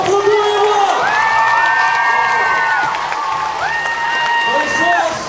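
A school audience at a student KVN comedy final in Kalush breaks into loud applause and cheering, with whoops and children's shouts over a dense wash of clapping while voices carry through the crowd.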